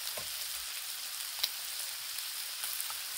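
Garlic and bacon frying on a Blackstone griddle give a steady, faint sizzle with a soft hiss throughout, broken by a few brief crackles and pops.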